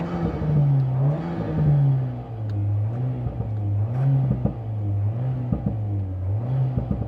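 A Renault A110's 1.8-litre four-cylinder engine in track mode rises and falls through revs in a steady, rhythmic drone, heard from inside the car with no talking over it.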